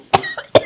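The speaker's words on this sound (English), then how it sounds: "Who's gonna cough first" Two sharp, close coughs a short moment apart, brought on by the fumes of chilies toasting in a wok.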